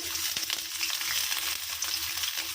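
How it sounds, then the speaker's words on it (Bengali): Chopped onion frying in hot oil, a soft continuous sizzle with faint crackle at moderate distance, fairly quiet and steady with no voices. "গরম তেলের মধ্যে আমি পেঁয়াজটা দিয়ে দেবো"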